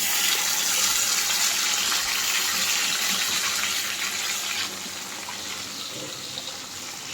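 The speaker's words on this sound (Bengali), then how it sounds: "মাছগুলো প্রথমে একে একে তেলে ছাড়বো।" Marinated hilsa fish pieces sizzling as they are dropped one by one into hot oil, a steady loud hiss and crackle throughout with no talking, easing slightly near the end.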